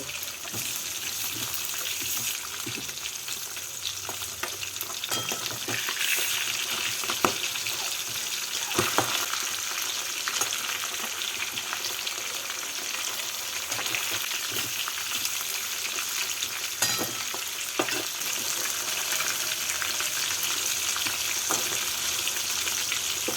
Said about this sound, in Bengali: মাছের মাথাগুলোকে নিচে পাল্টে লাল করে ভেজে নেব